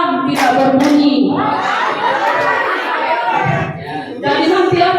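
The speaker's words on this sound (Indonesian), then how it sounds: "Jadi kalau tepuk pagi 1 kali bunyi, tepuk pagi, tepuk siang 2 kali" Children clap their hands in rhythmic bursts during a classroom clapping game, with the claps mixed into lively chatter and voices, including someone speaking and an adult directing.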